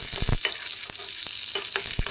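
Chopped ingredients sizzle and crackle in hot oil in a pan while being browned for a chicken gravy; a steady, close frying hiss runs throughout, with a few louder stirring bursts.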